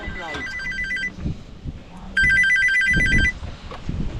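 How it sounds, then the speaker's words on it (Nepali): A mobile phone ringtone trills in two electronic bursts, close and clear, while someone talks over and between the rings. "फोन गर्दा है कस्टमरसँग कुरा गरौँ है।"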